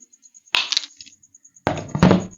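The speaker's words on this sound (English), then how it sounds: "Then you are going to cut off the excess parts." Two short bursts of snipping as the excess wire ends of an ethernet cable are cut off before fitting an RJ45 connector, each a quick crisp clip close by with a pause between.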